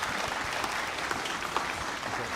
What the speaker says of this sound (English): So a round of applause and thanking our wonderful panel.